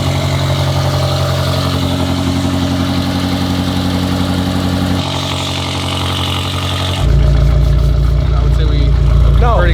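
A widebody Lamborghini Urus with a stage 4 tune runs loud and close, its engine droning steadily, dipping briefly, then rising into a heavier, louder rev near the end.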